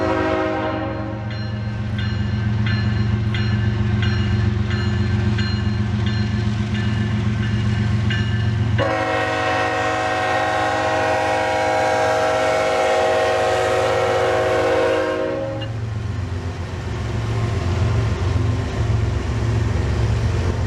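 A Canadian National freight train rumbles steadily past near Weyauwega, a deep continuous roll of wheels and engines, with a long loud horn blast sounding for several seconds in the middle before the rumble carries on alone.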